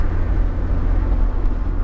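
A supercharged Lotus Elise engine drones loudly alongside heavy wind rush while driving with the roof off, a steady close rumble throughout.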